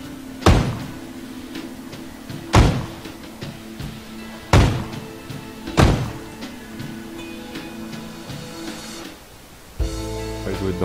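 Loud door slams in a video game, the bathroom door banging shut several times at uneven intervals, each sharp thud followed by a short decay, with background game ambience and a shift in tone near the end.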